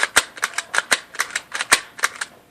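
Rapid series of sharp, crisp clicks from a Tokyo Marui MK23 airsoft gas pistol trigger being pulled repeatedly, about a dozen close snaps in an irregular quick rhythm with no talk.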